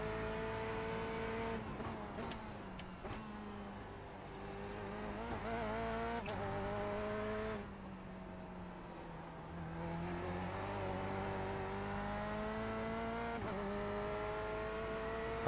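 Corvette C8.R race car engine in the iRacing sim, droning steadily with rising and falling revs through gear changes, constant and fairly loud throughout with no talk.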